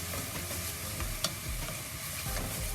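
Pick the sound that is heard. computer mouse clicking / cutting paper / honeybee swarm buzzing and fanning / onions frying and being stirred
onions frying and being stirred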